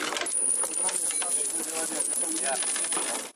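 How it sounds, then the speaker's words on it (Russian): At a military officers' graduation, fellow cadets throw a volley of coins that rains down and clatters in a dense, jingling burst, with voices murmuring underneath. "А товарищи по учебе салютуют залпом из монет."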